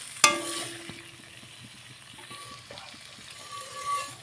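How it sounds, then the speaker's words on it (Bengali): Boiled potatoes frying in a little oil in a home kitchen pan, a soft background sizzle with a sharp clatter near the start and light scraping and stirring knocks, otherwise quiet with no talk. "প্রথমে একটু তেল দিয়ে নিলাম, এর মধ্যে আলুটা ভেজে নিচ্ছি।"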